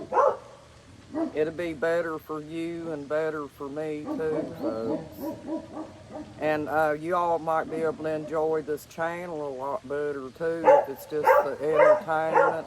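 Dogs bark and howl in the background, moderately loud and fairly continuous, under someone talking the whole time.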